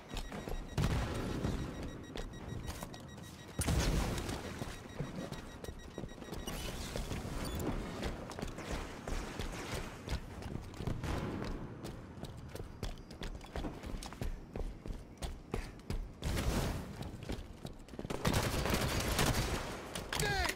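Gunfire in the video game Halo 5 keeps up in sustained rapid bursts and loud shots across a dense, busy battle mix with barely a pause.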